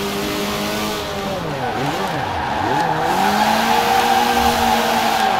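A car drifts in the Forza Horizon 4 racing game, its engine droning loudly and steadily while the tires squeal in long sweeping slides that rise and fall in pitch.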